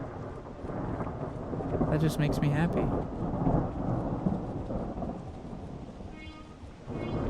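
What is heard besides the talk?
thunder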